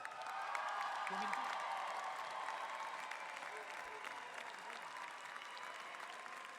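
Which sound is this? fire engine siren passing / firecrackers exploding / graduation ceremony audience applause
graduation ceremony audience applause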